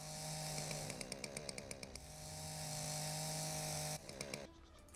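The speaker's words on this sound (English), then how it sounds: "Chainsaw! Gotta unblock this area here." Chainsaw cutting in the video game Dinosaur Fossil Hunter, a steady buzzing engine drone with rapid clicking bursts, pausing briefly and then revving again, close and without speech.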